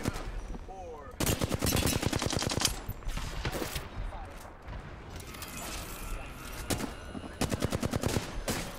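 Rapid automatic gunfire from a shooter video game crackles in several sustained bursts separated by short pauses, fairly close and loud, with quieter gaps between volleys.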